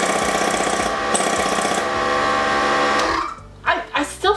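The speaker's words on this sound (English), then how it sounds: "who recommended that I get an air hammer, which is essentially like a power" An air hammer, a power hammer and chisel, chatters steadily on the exterior of a school bus being converted, loud and continuous for about three seconds before cutting off into a few short bursts.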